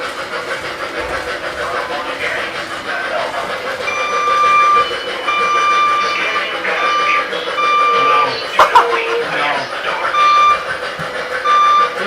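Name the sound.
reversing beeps of a vehicle backing up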